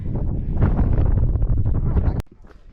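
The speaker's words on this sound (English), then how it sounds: "it is really windy up here." Heavy wind on a Catskills mountaintop buffets the microphone in a loud, rumbling roar, then cuts off abruptly to a quieter gusty background.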